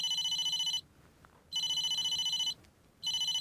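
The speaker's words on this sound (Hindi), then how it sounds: "अरमान का फोन है।" A mobile phone ringtone rings in two clear bursts, each about a second long, with a short pause between them and the start of a third. The tones are bright, steady and close.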